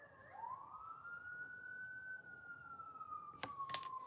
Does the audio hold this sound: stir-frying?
no